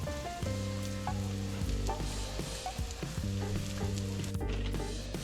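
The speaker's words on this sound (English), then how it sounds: "I'm frying an additional egg per serving to go over the top of our salmon patty." An egg fries in a hot pan with a steady, dense sizzle and crackle throughout, with no talking, and a faint musical tone in the background.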